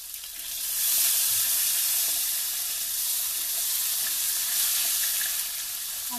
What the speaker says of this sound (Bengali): আলুটা একটু ভাজা ভাজা করে নেবো ভালো করে।